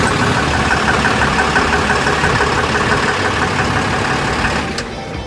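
A Type 6 fire engine truck idles with a loud, close, steady rumble and faint knocking, holding constant for about five seconds before easing slightly at the end.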